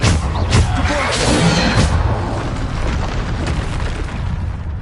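A loud, rumbling explosion from the Bombarder spell in a PS5 game booms up close, then rolls on as a heavy roar with crackling debris for several seconds and no talk over it.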